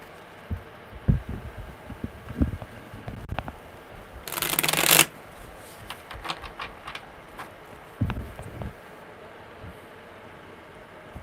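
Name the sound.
tarot cards being shuffled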